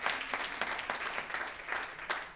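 An indoor audience at a seminar claps continuously, a dense steady patter of many hands at moderate distance, with no voices over it.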